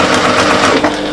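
A sewing machine runs loud and close while stitching a curved pouch, giving a fast, steady mechanical whir with rapid needle ticks throughout the brief moment.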